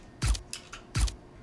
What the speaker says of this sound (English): for the last part, I'm going to use the suppressed pistol again